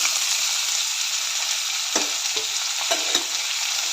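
Mustard seeds, curry leaves, onion and tomato frying in a hot pan, a loud dense sizzle with several sharp spatula scrapes toward the end, no speech.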